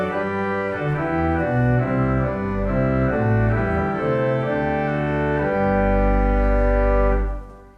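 Full pipe organ with all stops drawn together, including a 4-foot reed, playing a thick, dense sustained chord progression loudly and alone, with a deep pedal bass swelling near the end before the sound releases.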